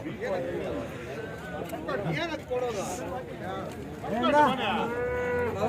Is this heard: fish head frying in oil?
no